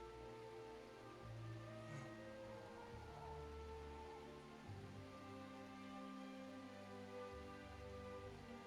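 Rain falling in a video game, a steady, soft patter of drops on surfaces lasting throughout, faint and even, with low tonal music underneath and no talking.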